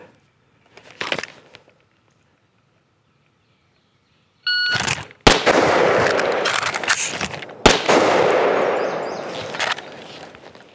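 Rifle fire during a fast reload drill at a shooting range, quiet handling noises first, then a loud dense burst of rapid shots with sharp cracks and a brief pause between strings.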